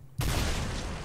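A shotgun blast fires in Minecraft, one sharp, loud boom that cuts in abruptly after a brief quiet moment, then a dense, sustained rumble and crackle trails off with no voices.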